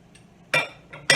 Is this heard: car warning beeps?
no